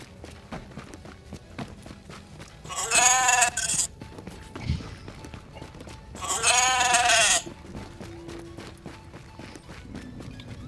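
A goat in the video game The Division bleats twice, loud, wavering cries a few seconds apart, amid busy background noise with footsteps and scuffling.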